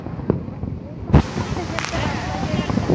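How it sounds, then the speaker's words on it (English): Fourth of July fireworks pop and thud in a few distant bangs over a crowd's chatter and people talking nearby, with a constant outdoor murmur beneath. "Ah, fireworks over there."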